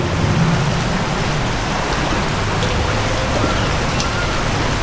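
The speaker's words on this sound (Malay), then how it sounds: "Hujan lebat" Heavy rain pours down in a dense, constant hiss that holds steady and loud throughout, with no voices or pauses.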